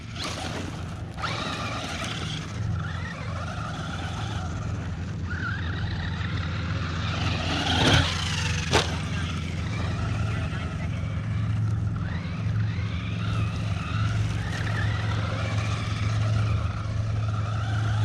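A Traxxas Rustler 4x4 VXL RC car drives around a cone course, its electric motor whining steadily as it varies with throttle, with one sharp knock partway through, alone at moderate distance.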